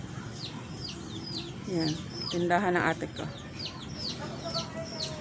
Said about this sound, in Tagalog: Ang aking mga manok naghahanap ng makain.